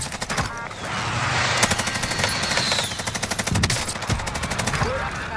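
Rapid automatic gunfire in a military video game, sustained rattling bursts with close, sharp shots over a dense battle din, with a voice briefly heard.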